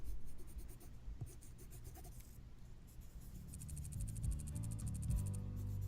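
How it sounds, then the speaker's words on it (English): Pencil sketching on paper as a visual novel sound effect, a quick scratchy scribbling of repeated strokes that grows fuller and busier toward the end, heard alone. "and Shane began to sketch"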